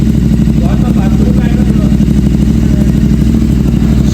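A motorcycle fitted with Motoking headers and a full-system exhaust idles steadily and close by, a loud, continuous throbbing rumble that holds even throughout.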